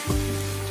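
Lentil batter fritters (bora) frying in hot oil, a dense continuous sizzle close up and fairly loud throughout, with no voices.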